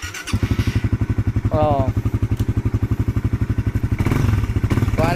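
A motorcycle engine idles close by with a steady, rapid pulsing throb, its sound swelling briefly at moments, while people talk over it.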